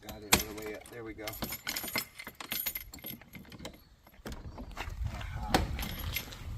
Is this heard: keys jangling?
yes